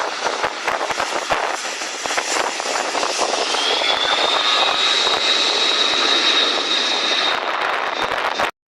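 C-130 Hercules turboprop engines roar loudly and steadily during a landing on sand beside a lake, a continuous broadband drone with a rising whine, close and alone, cutting off abruptly at the end.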